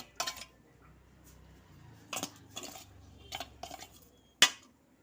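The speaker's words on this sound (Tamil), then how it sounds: "தேங்காய் சேர்த்துட்டு நல்லா மிக்ஸ் பண்ணிக்கலாம்." Grated coconut being mixed by hand into rice flour in a bowl for instant puttu, giving a few quiet, scattered scrapes and clinks against the dish in a hushed kitchen.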